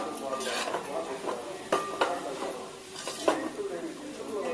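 Egg biryani ingredients are mixed in a bowl with repeated clinks and scrapes of a spoon against the dish, set against faint background noise.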